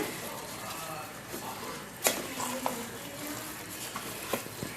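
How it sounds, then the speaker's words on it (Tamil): A spoon scrapes and stirs through rice in a pot of mutton biryani with a soft sizzle underneath, giving a few distinct knocks against the side. "ரைஸை நல்லா கிளறிட்டு"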